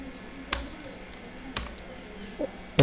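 Typing on a computer keyboard: a few separate key taps spaced about a second apart, close and moderately loud over a quiet room background, ending in a quick cluster of clicks.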